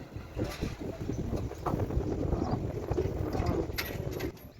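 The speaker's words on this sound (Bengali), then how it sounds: "লাস্ট গাড়িতে যে গরুগুলো দেখছেন এখন গাড়ি থেকে নামতেছে" Cattle stepping down off a truck at a farm, hooves clattering in a steady run of thuds and knocks against metal and ground, with a continuous broadband rumble of wind and movement throughout.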